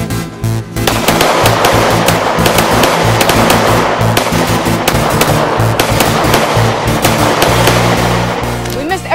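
Rapid gunfire in an action short film, a dense, loud burst of sharp repeated shots crackling continuously for several seconds at close range, with a voice briefly under the shots.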